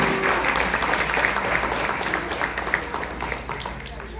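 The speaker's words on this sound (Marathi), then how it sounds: "त्यामुळे खूप खूप खूप टाळ्या झाल्या पाहिजे" A crowd applauds steadily at a Ganapati festival skit, a dense patter of claps that holds even throughout.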